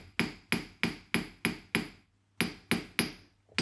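Hammer texturing a silver stacker ring on a metal surface, a run of sharp, evenly spaced strikes close by, a short pause, then several more blows in the same steady rhythm.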